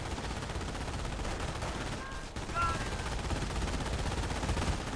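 Machine gun fire in the World War II strategy game Company of Heroes during the Omaha Beach landing, a dense, continuous crackle of automatic bursts, with a brief lull midway before the firing resumes.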